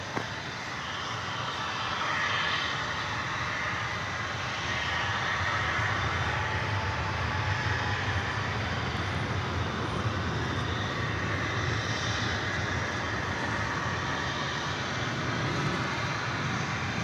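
An American Airlines Airbus A319 landing at DFW Airport, a broad sustained jet engine roar and rushing air that stays loud and steady throughout, heard from an outdoor spotting position.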